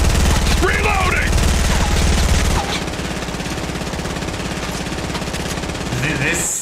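A P90 Compact SMG in Fortnite fires long, rapid, loud bursts that run almost the whole time, with a voice talking over the shooting.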